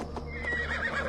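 Horses neigh and whinny in the Assassin's Creed Valhalla video game, one drawn-out whinny rising and wavering over a low rumbling background, with a faint clip-clop of hooves underneath.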